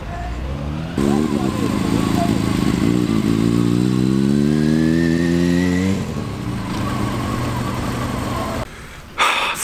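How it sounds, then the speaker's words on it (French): A vehicle on the Hakone Turnpike in Japan revs hard nearby, its engine pitch climbing steeply through a gear before dropping back to a rougher drone. Wind noise and road rumble run throughout. "Il me semble un petit peu énervé là sur l'accélérateur."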